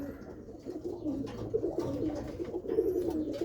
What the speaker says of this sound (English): Some birds over there. Excuse the homers.